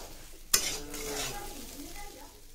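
Onions frying lightly in oil in a pan, a sharp utensil clink followed by a quiet, fairly faint sizzle and stirring, with no speech.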